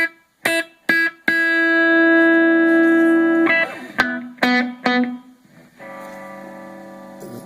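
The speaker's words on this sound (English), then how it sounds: "you have different reverb types." Guitar played through a Blackstar ID Core 10 amp on its reverb setting: short plucked notes, then sustained chords ringing out with lingering tails, a few sharp picked hits between.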